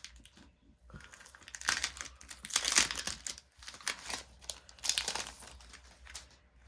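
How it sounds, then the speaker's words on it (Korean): Plastic packaging of a photo toploader set with stickers is torn and crinkled open by hand in a series of close, crackling bursts, quieter between pulls. "한번 열어 뜯어볼게요"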